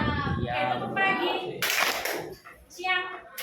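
Children perform the 'tepuk pagi' clapping routine, sharp unison hand claps in short groups alternating with young voices chanting and an adult talking.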